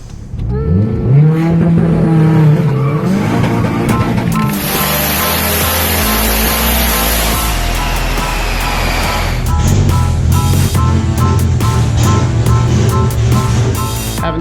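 Mitsubishi Mighty Max pickup with a swapped 4G63 engine, loud and close, revving and accelerating with a rising then settling engine drone and rushing road noise.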